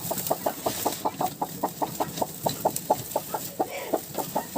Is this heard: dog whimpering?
no